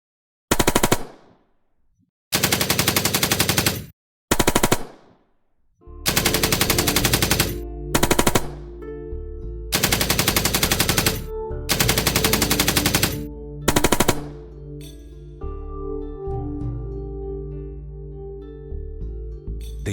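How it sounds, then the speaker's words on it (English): Machine gun fire comes in several loud, rapid bursts separated by short silences, followed by a lower, rumbling tail. "Gunfire cracks the air like snapping bones"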